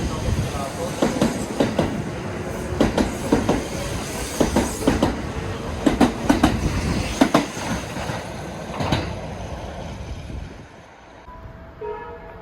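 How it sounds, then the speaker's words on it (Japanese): Delayed limited express train arriving at a Japanese station platform, rumbling in with repeated clattering wheel clicks over the rails, loud and fairly close, then fading to a quieter hum as it slows. "この後に遅れております内山田駅の特急が到着します。"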